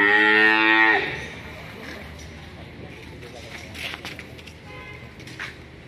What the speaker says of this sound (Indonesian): Ada sapi-sapi betina, ini petetan-petetan.